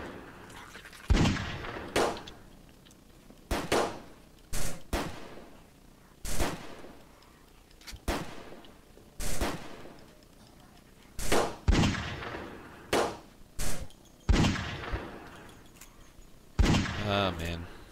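Pistol shots from the zombie-survival video game Fort Zombie ring out in sharp, separated single cracks, about a dozen spread irregularly across the stretch, with a quicker cluster near the end and a voice talking between them.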